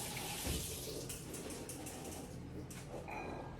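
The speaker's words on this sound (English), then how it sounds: "pour this water out, give it a quick rinse" Tap water runs steadily over canned chickpeas in a kitchen sink during rinsing, giving a continuous soft hiss with small splashes. It is close up and fairly quiet, with a little faint speech in the background.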